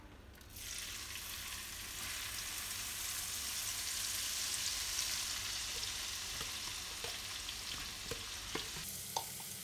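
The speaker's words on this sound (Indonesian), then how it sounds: "Ini ditumis menggunakan api kecil" Chili and shallot paste fries in oil over low heat with a steady, even sizzle throughout, close up, broken by a few faint clicks of stirring.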